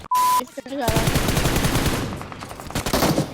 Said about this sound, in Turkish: silah çekemeden vurdum